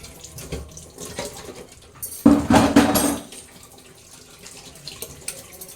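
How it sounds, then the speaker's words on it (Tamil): Washed brass pooja items being rinsed under running tap water, a loud splashing burst of about a second in the middle with quieter trickling before and after. "நம்ம நல்ல தண்ணியில் ஒரு அலசி"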